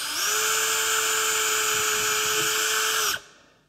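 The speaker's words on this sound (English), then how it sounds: "So when I drill through the first piece of wood into the second" A high-pitched power drill boring through wood whines steadily for about three seconds at close range, then cuts off and spins down.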